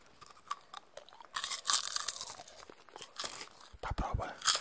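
Crunchy caramel and peanut popcorn chewed close to the microphone, loud bursts of crunching and biting with crinkly textures, quieter gaps between mouthfuls.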